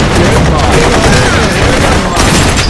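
Dense, rapid gunfire rattles loudly and continuously in the video game Blue Estate, shots overlapping into a sustained barrage with no pause from start to finish.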